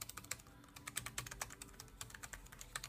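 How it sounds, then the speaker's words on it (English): Steady typing on an iClever Bluetooth keyboard paired with an iPhone: quick, fairly quiet key clicks in an uneven rhythm, close by and with no voices. "And just go ahead and do a little typing."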